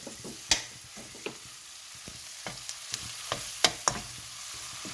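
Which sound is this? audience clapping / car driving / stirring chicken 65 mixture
stirring chicken 65 mixture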